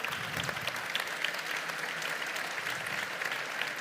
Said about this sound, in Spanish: aplaudan un rato más